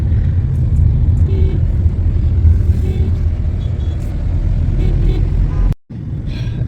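A Skoda Kushaq car driving, heard from inside as a steady, loud low rumble of engine and road noise with a brief dropout near the end.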